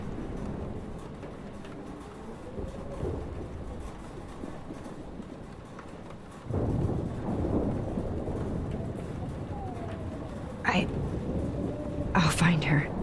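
Rolling thunder and a storm rumble in the video game Life is Strange, a low continuous roar that swells partway through and is joined by sharper cracks near the end, under quiet character voices.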